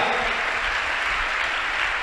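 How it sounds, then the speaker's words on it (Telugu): Congregation at a church service clapping hard together, a dense, continuous wash of applause holding steady and loud throughout. "కొట్టు చప్పట్ల గట్టిగా"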